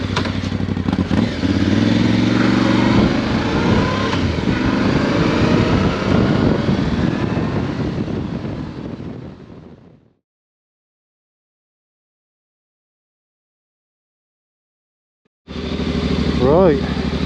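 A Voge DS625X motorcycle riding along the road, a loud steady engine drone with wind rush for about ten seconds, cutting to silence, then returning abruptly near the end.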